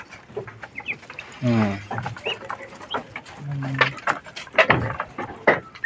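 Five-week-old ducklings eat chopped kangkong mixed with bran and a little feed, giving close, busy pecking and dabbling sounds mixed with short quacks and clucking calls.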